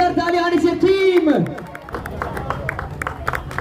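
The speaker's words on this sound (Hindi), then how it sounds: "एक बार जोरदार तालियां आनी चाहिए टीम" An audience claps at the grand opening of a Tanishq jewellery store in Jammu, with a burst of dense applause and crowd chatter following a voice over a loudspeaker.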